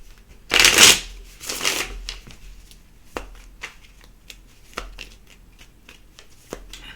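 Tarot cards are riffled and shuffled up close, two loud bursts followed by softer taps and flicks as the deck is handled.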